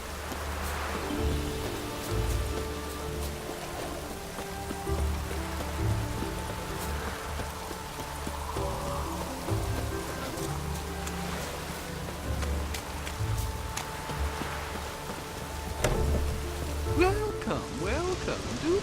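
Steady rain falls in The Witcher 3 as a soft, continuous hiss of drops at moderate distance. A low tonal background hum runs beneath it.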